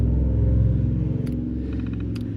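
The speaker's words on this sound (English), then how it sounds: "Some people don't believe in fucking mufflers that drive past my house" An unmuffled car drives past a house, a loud low engine rumble and throaty drone that swells and then slowly fades over a couple of seconds.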